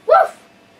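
A Chiweenie dog gives one short, loud, close bark that quickly fades, heard alone without talking.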